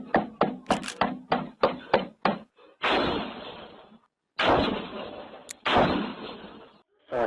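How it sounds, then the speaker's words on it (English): A front door is banged on in a rapid series of about eight heavy, close thumps, followed by several longer, louder booming crashes separated by short silences. "He's banging on my door."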